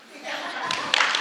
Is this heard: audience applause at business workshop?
yes